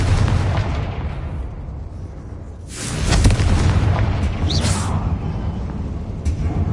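Fire-blast spell explosion in the video game Hogwarts Legacy: a deep booming burst with a rushing roar over continuous rumbling game noise, loud and close.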